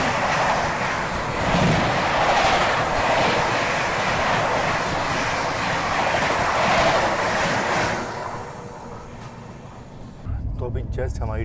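The Swarna Jayanti Express rumbles along the rails in Jharkhand, a steady, loud, close roar heard from inside the coach. The roar eases as the train slows, and faint voices run beneath it.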